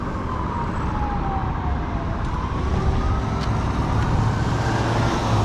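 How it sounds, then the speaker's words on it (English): Emergency sirens wail in the distance over steady road traffic noise, their pitch sweeping slowly up and down. "I hear a lot of sirens."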